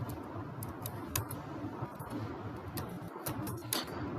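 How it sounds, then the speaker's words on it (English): Computer keyboard typing, a steady run of light key clicks at close range, fairly quiet, with no speech, as a name is entered into a web page form. "I'm just going to type my name"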